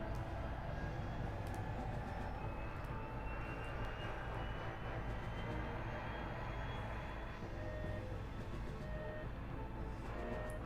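A droning airplane engine from a PS1-era console video game, a loud continuous hum with a slowly rising pitch that runs throughout, with no talking.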